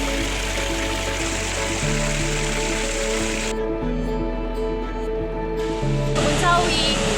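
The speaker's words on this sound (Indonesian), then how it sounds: "air terjun Blawan hanya berjarak sekitar 30 meter dari sumber air ini" Blawan waterfall and its stream pour with a constant broadband rush, with someone talking over the water throughout.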